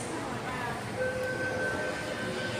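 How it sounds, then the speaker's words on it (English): A Sydney Metro Tallawong service pulling away from platform 2 at a station, a steady broadband rumble of the departing train with faint tonal whines rising over it, moderately distant and unbroken. "We've got our Tallawong service departing platform 2."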